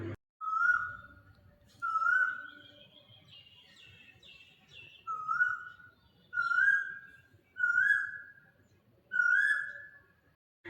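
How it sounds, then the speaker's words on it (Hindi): An Asian koel calls in the early morning among mango trees, repeating a clear rising whistle about seven times at steady intervals, moderately distant with soft ambient noise between calls. "यहाँ पे कोयल की बड़ी अच्छी आवाज़ आ रही थी।"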